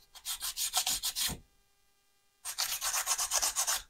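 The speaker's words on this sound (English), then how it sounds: "So where I remove the supports, there's just some fine little dimpling. So I'll take 100 grit sandpaper." A 3D printed part sanded by hand with 100 grit sandpaper: two close bursts of quick rhythmic rasping strokes, about a dozen each, separated by a short pause.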